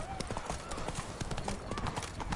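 Hooves of a game horse clip-clop in a steady trotting rhythm in a PS4 game, fairly close, with a faint whinny and game dialogue voices over the top.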